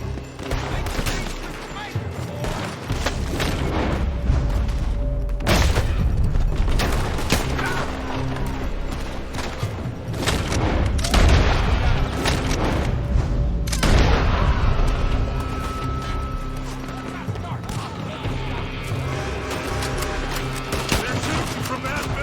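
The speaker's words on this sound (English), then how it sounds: "They're shooting from that building." Gunfire and explosions in a Red Dead Redemption 2 gunfight, with rifle and pistol shots cracking in dense, irregular volleys and heavy booms rolling underneath for the whole stretch, loud and close, with scattered shouting voices.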